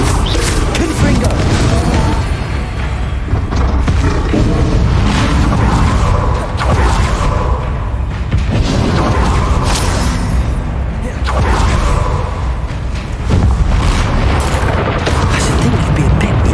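Repeated booming spell blasts from Hogwarts Legacy combat, loud and constant, with bursts and crashes layered over a continuous battle soundscape, no speech.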